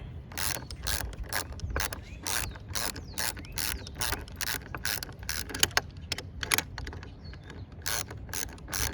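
Ratchet tightening 13 mm bolts on a 2007 Cadillac DTS power steering pump, quick close bursts of sharp clicking repeated in many short strokes, with no voice over it.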